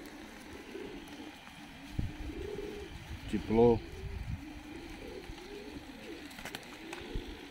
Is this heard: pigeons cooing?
yes